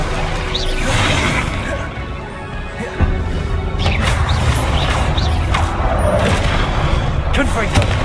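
Repeated Confringo blasting-spell explosions in the video game Hogwarts Legacy, dense booming bursts and crashes layered with whooshing effects and steady game noise, with a sharp hit near the middle and speech over the action.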